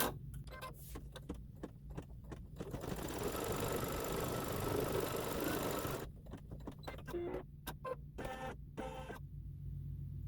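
An embroidery machine stitches the placement line for a hat on a Christmas quilt block. A few ticks come first, then a steady, close, whirring run of stitching, followed by sharp clicks and taps as it stops and moves.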